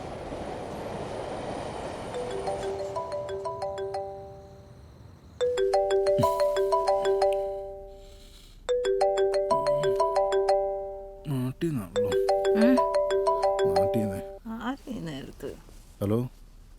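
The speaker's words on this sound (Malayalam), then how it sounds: "നീ വിളിക്കേ, എൽദോനെ വിളിക്കേ" Mobile phone on an outgoing call, a repeating electronic ringback melody heard in several bursts with pauses between, after a stretch of background noise, with people talking around it.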